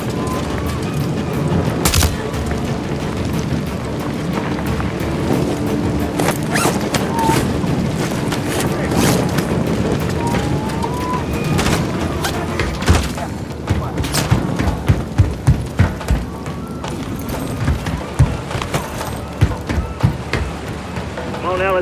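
Gunfire and explosions in the video game Call of Duty Modern Warfare III, a loud, dense battle din with booms and rattling shots, sharper bursts toward the end, with voices talking over it.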